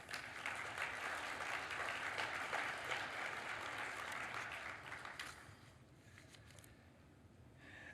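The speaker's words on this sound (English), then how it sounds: "So that's worth a round of applause" Audience applause at a rodeo association's annual address, steady and moderately loud for about five seconds before thinning out to scattered clapping.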